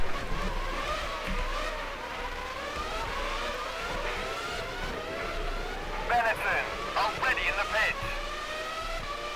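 Formula 1 cars from the racing game F1 Challenge 99-02 at the 1999 French Grand Prix, engines whining up and down through gear changes as several cars pass, with someone talking over the racing.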